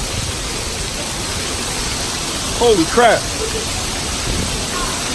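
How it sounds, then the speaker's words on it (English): Hail falling outdoors makes a steady, dense hiss throughout, with a man's brief exclamation partway through. "It's hailing. Look at that. It's hail, bro."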